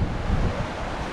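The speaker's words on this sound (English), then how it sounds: "A waterfall." A massive waterfall in Iceland gives a loud, broad, steady roar mixed with strong wind buffeting the microphone over a short stretch.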